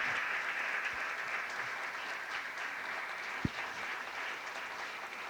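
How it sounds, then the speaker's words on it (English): A conference plenary audience gives a big round of applause during the welcome session. The clapping is steady and sustained for over five seconds, with a single sharp knock partway through and no voices. "A big round of applause also for the delegation of Poland that is visiting"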